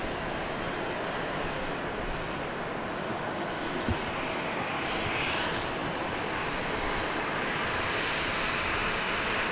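A Southwest airliner takes off from runway 13 left at Dallas Love Field, its engines a loud, steady, broadband roar sustained throughout with no voices.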